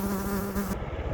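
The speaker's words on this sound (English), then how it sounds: "Can you see that wasp?" A wasp buzzes close by while camping in the Mourne Mountains, a steady droning whine lasting under a second before cutting away to quieter background.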